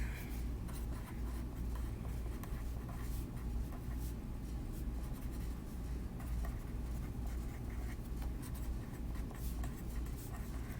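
A pen scratching and scribbling on paper while writing a shape poem, a faint, continuous rubbing over a low steady background hum, with no talking.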